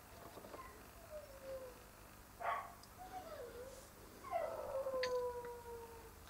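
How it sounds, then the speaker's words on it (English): A dog howls in long wavering tones in the open on a cold July day, two drawn-out howls with a shorter one between, fairly faint against quiet background hiss. "Listen to that dog."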